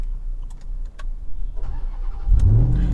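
A 2023 RAM TRX supercharged V8 engine cranks over with a few clicks and a starter whir, then catches and roars to life with a deep, loud rumble that settles into a throaty idle.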